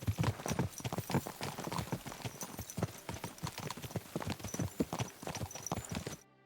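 Horse hooves clip-clop in rapid, regular beats in the medieval game Kingdom Come: Deliverance II, close and steady for several seconds before cutting off abruptly.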